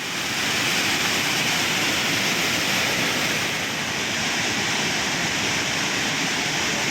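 Rushing flood water in a river in heavy monsoon rain, near the Vilangad bridge in Kozhikode, roars continuously, a loud, dense, unbroken wash of turbulent flow with no pauses.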